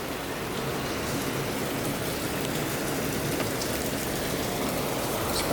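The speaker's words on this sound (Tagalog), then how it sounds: "Masyado palang malakas ang ulan." Heavy rain pours down steadily, a dense, constant hiss of drops drumming on surfaces close by, with no pauses or other sounds.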